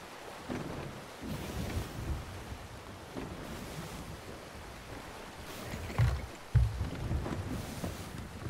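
Rushing, sloshing water floods into a ship in the Sea of Thieves video game, a continuous watery wash with surges and a couple of louder splashes, heard at a steady moderate level.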